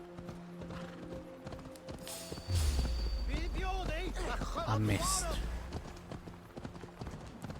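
Horse hooves gallop in a steady clip-clop rhythm in the video game Assassin's Creed Valhalla, close and prominent over a low rumble, with someone talking over them.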